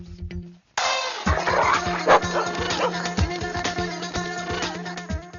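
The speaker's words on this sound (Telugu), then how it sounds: "అరే ఇది మన కుక్కలా ఉంది" A dog barks in a rapid, repeated string of loud bow-wow yelps, close by and continuous, in a Telugu comedy film scene.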